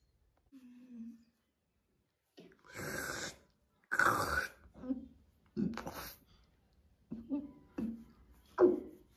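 A burp voiced during a plush-toy comedy skit, set among other short vocal bursts and grunts, loud and close, alternating with brief silences.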